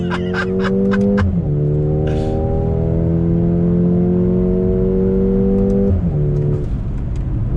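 A 2021 Mercedes-AMG GLA 35 SUV engine accelerates steadily, its pitch rising through two gear changes, heard up close with some faint ticking at the start.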